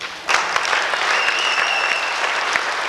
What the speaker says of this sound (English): Why don't you give them one more round of applause?